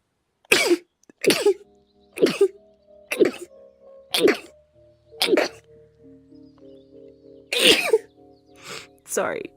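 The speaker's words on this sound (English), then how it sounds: "I'm gonna sneeze." Repeated loud sneezes, about eight sharp bursts spaced roughly a second apart, close up, with brief voiced sounds trailing between them.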